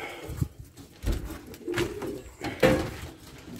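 Racing pigeons coo in a loft, several soft low coos in separate bursts at close range with no talk.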